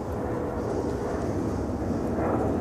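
An airplane passing overhead on an outdoor walk, a continuous low, broad rumbling roar that stays steady and fairly loud throughout, with no speech.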